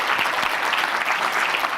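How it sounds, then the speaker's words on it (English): Steady, dense applause from a conference audience at a women's summit, many hands clapping continuously and fairly loud throughout, with no voices standing out. "Please join me in giving another round of applause to this morning's speakers."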